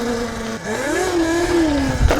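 A car drives by on rough terrain near an electric dirt bike ride. Its engine note sounds loud and close and climbs in pitch as it passes.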